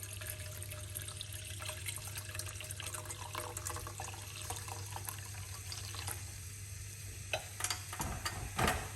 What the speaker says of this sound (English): I'm going to start it off with some hot water.